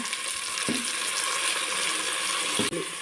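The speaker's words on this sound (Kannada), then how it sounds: "ಅದಕ್ಕೆ ಒಂದು ಟೊಮೆಟೊ ಹಾಕೋತಾ ಇದ್ದೀನಿ ಒಗ್ಗರಣೆಗೆ" Tomato dropped into hot oil for tempering while cooking mutton sambar, giving a steady, close, hissing sizzle that runs throughout with a couple of brief clattering knocks.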